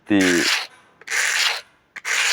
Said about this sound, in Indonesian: Kita amplas dengan tekanan yang rata kekuatannya